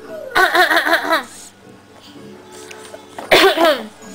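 A child makes two short bursts of voiced, hacking coughs close to the microphone, separated by a quiet pause of about two seconds.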